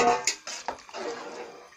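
Water pours into a pot of vegetable rice pulao made with three kilos of rice, beginning with a couple of metallic clanks and then settling into a steady, close splashing rush that lasts to the end.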